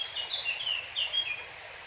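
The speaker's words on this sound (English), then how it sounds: "Listen to those birds." Faint, high-pitched bird calls drift in from a distance over a steady outdoor hiss, a few short chirps repeating without a clear rhythm, on a trail near Hareshaw Linn waterfall, Northumberland.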